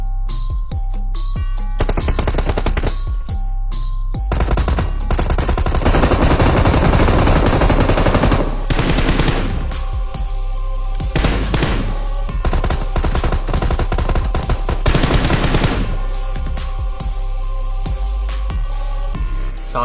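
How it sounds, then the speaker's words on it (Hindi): Rapid gunfire from a PUBG Mobile battle royale match, loud and continuous, with sustained automatic bursts layered over ringing, tinkling game effects and background music for the whole stretch. "सालों ने अचानक से ही फायर कर दिया मेरे पे"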